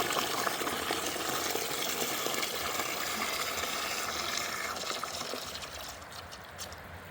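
Well water runs steadily into a 5-gallon bucket, a continuous broadband splashing rush that holds at a moderate level and eases slightly toward the end, with no voices.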